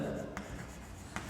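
A hand writing an example sentence with pen or marker, giving soft scratchy strokes, close and quiet, in short bursts.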